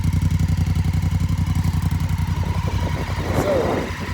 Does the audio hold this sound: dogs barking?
no